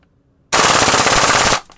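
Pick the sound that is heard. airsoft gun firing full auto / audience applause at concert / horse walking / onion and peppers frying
airsoft gun firing full auto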